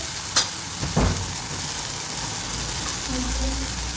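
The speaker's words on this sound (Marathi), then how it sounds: "ह्याला एक पाच मिनटं का नाही मस्त फ्राय करून घ्यायचं" Brinjal (eggplant) pieces fry in a pan, giving a steady soft sizzle throughout, with a couple of brief stirring scrapes near the start and a faint hum underneath.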